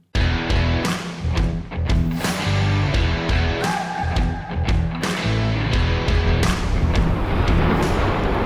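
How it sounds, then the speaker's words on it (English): Heavy booms and deep thuds roll out close together, with hissing and crackling in between, as a volcano at dusk spews molten rock that lands in its caldera. "You can hear the thud and hiss as the molten rock lands in the caldera of the volcano."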